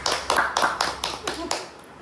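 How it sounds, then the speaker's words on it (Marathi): People at a clay craft competition clap for a clay bucket, a small group's scattered, uneven claps spread over about two seconds and fading toward the end. "तर बकेट साठी टाळ्या होऊन जाऊ द्यात"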